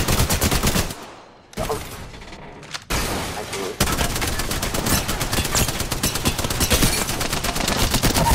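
Rapid, loud automatic gunfire in a first-person shooter video game, sustained bursts broken by a brief lull, with a voice faintly heard underneath.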